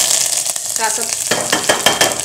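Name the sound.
tempering spices in hot oil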